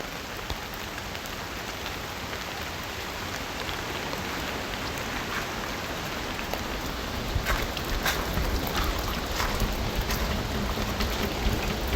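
Steady, dense rainfall hissing continuously across a dense jungle forest slope, with occasional heavier drips standing out, no voices.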